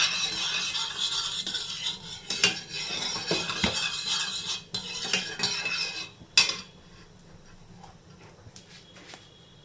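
Panch phoron spices (jeera, methi, ajwain, saunf and kala jeera) for sweet mango pickle are mixed in a pan, giving quiet, scattered metallic scrapes and taps of a spoon against the pan, with no talking.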